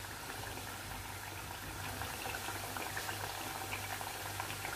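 Breaded eggplant cutlets cooking in a pan of oil, giving a constant even bubbling hiss throughout with no distinct breaks or voices.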